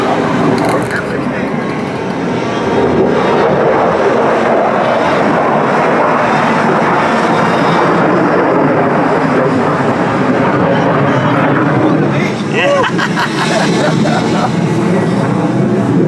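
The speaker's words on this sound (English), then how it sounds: "that jet that you're hearing taking off goes a little faster" A jet aircraft takes off near a go-kart racetrack, producing a loud, continuous roar that holds steady across the whole stretch with no break.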